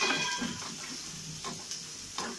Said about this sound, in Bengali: পেঁয়াজ বেরোস্তা আর কাঁচামরিচ হয়ে আসছে, আমি বেশি কালার করব না, এ পর্যন্তই রাখবো। সামান্য ভেজে নিব